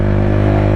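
A Lexmoto Tempest 125 motorcycle engine runs with a noisy vibration, producing a loud, close, steady droning hum with a buzzy harmonic tone. The burst is brief and has no talking over it.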